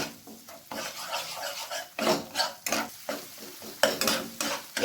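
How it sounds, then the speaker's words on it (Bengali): Spices and sour yogurt are stirred into a curry in a pan over low flame, with repeated scraping strokes and clinks of a spoon over a soft sizzle, each stroke close and distinct. "এরপর আমি ভালোভাবে মিক্স করে নেব।"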